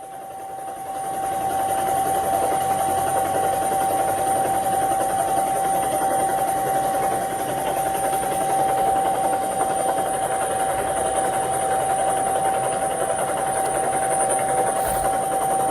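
Helicopter heard from on board while flying over a huge funeral crowd, a steady loud rotor and engine drone filling the whole stretch with no voices.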